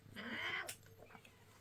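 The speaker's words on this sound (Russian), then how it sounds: "Только мяу было слышно." A cat undergoing veterinary treatment lets out one drawn-out, unhappy meow, close and clear, followed by a few fainter rustling sounds.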